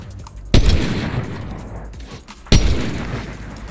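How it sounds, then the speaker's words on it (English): Two loud, sharp sniper rifle shots in the video game Fortnite crack about two seconds apart, each with a booming echo that fades slowly. "Oh, my sniper shots are really off right now."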